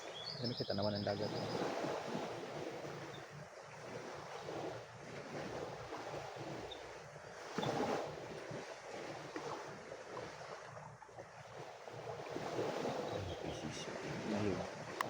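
Sea waves washing ashore at Balut Island, a steady broadband roar of surf with wind buffeting the microphone, continuous and fairly loud throughout with faint voices now and then.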